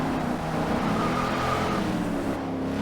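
A 1997 Land Rover Defender 90 drifting, its engine droning steadily while the tires scrub and squeal close by without a break.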